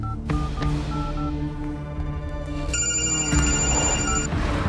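An old-style telephone bell rings repeatedly through a dramatic film score in a Hindi-dubbed romantic movie scene, steady and fairly loud with no talking.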